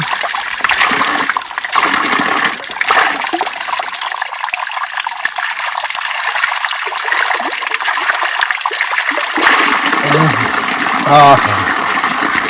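Cold mountain spring water gushes and splashes steadily from a spout, loud and close, with voices speaking briefly toward the end.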